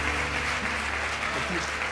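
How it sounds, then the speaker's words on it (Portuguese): Church congregation applauding for Jesus during an evening Portuguese-language worship service, a steady wash of clapping with faint voices and background tones underneath. "Eu posso pedir palmas, por favor, para Jesus"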